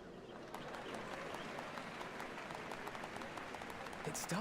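Crowd applause during a Final Fantasy XIV: Dawntrail cutscene at a Dawn Servants ceremony, steady dense clapping throughout, fairly loud and continuous, with faint game sounds near the end.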